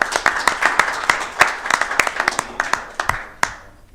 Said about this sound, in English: we're not just clapping at the air here either